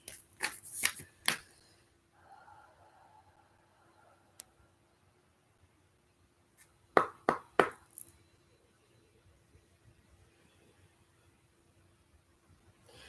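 A deck of playing cards is shuffled in a few quick riffling bursts, then after a pause a card is pulled and handled with several crisp, close snaps and flicks, fairly soft overall with quiet gaps.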